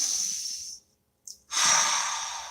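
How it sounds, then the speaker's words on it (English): A deep breath in, a broad airy inhale of about three quarters of a second, a short pause, then a longer, fuller exhale, close and clear with no talk. "Please take a nice deep breath"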